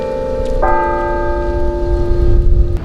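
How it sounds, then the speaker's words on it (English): Campus chimes at St. Cloud State University ring out as a sustained bell chord, a clear tolling that swells and holds for a couple of seconds before cutting off, heard alone over faint outdoor background noise. "those bells ring out every half hour on campus"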